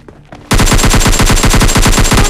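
Rapid automatic gunfire from the mobile shooter PUBG Lite, a loud, fast burst of evenly spaced shots that starts abruptly after a quiet moment and keeps going for nearly two seconds.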